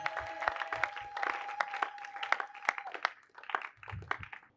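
A church congregation claps in sharp, uneven bursts and cheers, close and moderately loud, with short gaps between the rounds of applause.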